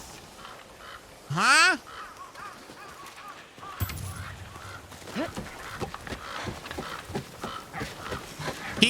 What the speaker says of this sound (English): Some birds are fighting on the roof. This old head of mine can't think with all that racket.